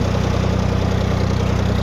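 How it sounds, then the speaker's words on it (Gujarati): A tractor engine runs at a steady idle on a village farm, giving a loud, close, throbbing low rumble with an even pulsing beat throughout. "ટ્રેક્ટર ચાલુ છે"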